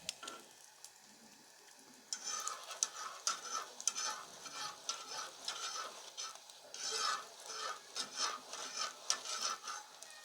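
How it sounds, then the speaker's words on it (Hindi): Lachha paratha frying on a pan over a medium flame, a quiet sizzle that swells into crackling and scraping as the flatbread is turned and stirred, with repeated irregular bursts close by. "मीडियम आग पे आपने इसको यूँ पका लेना है।"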